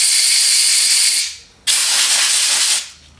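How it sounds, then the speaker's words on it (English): An air gun blows lacquer thinner out of a car part in two loud, steady hissing bursts, the first about 1.3 seconds and the second about 1.2 seconds, separated by a short gap. "Now again, we use our air gun. Try to blow out all the"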